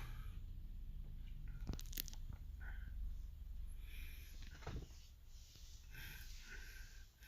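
Crunchy chewing of radish kimchi (kkakdugi) eaten with Korean gukbap at a Geoje restaurant, close-miked bites and wet mastication with breathing and snorts, no talking.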